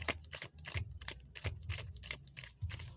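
Tarot cards riffle and snap in quick repeated bursts close up, a brisk rhythmic shuffling with no talking.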